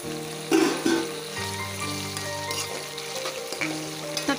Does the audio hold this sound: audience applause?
no